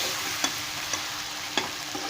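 Potatoes roasting with dry spices such as salt, chili, turmeric, black pepper, cumin and dried coriander give off a steady soft sizzle, broken by three sharp scraping stirs of a spoon against the pan.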